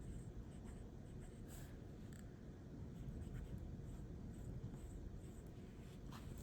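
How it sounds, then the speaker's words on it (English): A purple Majohn M800 fountain pen with a fine nib writes on paper, making a faint, quiet scratching that runs steadily over low background noise. "I do want to also write on here with my new Mahjong pen"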